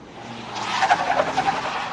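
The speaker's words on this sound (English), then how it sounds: "A weathered pickup truck flies into the parking area and skids to a stop next to the school bus." A weathered pickup truck skids to a stop: a rising screech of tires scraping pavement, close and loud, lasting over a second with wavering squeals and no talking.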